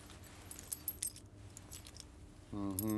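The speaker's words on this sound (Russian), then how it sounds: "очень похоже на ключи от моей квартиры" A bunch of apartment keys jangles in a few short metallic bursts close by in a quiet room, followed by a voice starting to speak.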